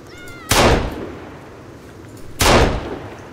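Two loud handgun shots ring out in the survival video game Sons of the Forest, about two seconds apart, each a sharp broadband crack with a fading tail, and no talking over them.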